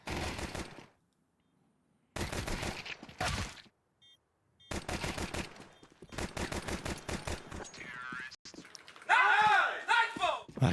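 Pistol fire in a Counter-Strike pistol round between Complexity and G2 at the PGL Bucharest 2025 semi-final: loud, dense bursts of shots come in clusters separated by short silences, with a voice audible among them.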